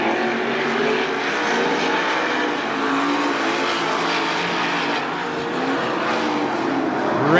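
305 sprint cars racing at Attica Raceway Park, loud high-revving engines roaring close by in a dense continuous pack, pitch rising and falling as cars pass, no speech.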